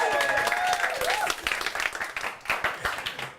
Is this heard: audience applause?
yes